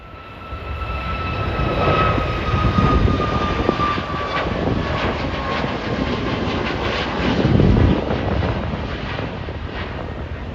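An airliner departs from Ponta Delgada airport in the Azores, its jet engines giving a steady loud roar with a whining tone, swelling and fading slightly as it takes off.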